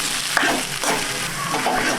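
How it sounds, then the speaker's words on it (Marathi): Grated potato sautés in hot oil with fenugreek, a steady close sizzle and crackle broken by the scrape and stir of a spoon in the pan. "चांगलं परतून घ्यायचं"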